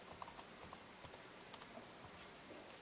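Soft, close keystrokes on a computer keyboard as a command is typed, irregular quiet clicks over a faint steady hum, with no speech.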